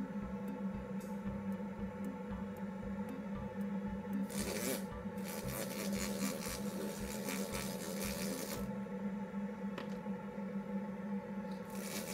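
A fine cut burr trimming and smoothing acrylic, a faint continuous whirring grind with louder bursts of abrasive rasping midway.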